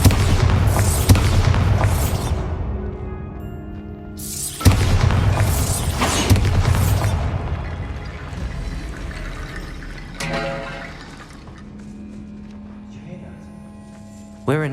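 Bombarda spell explosion in the Hogwarts Legacy video game inside a tomb, two loud booming blasts with crumbling, trickling debris afterward, close and dominant, fading into quiet eerie ambience.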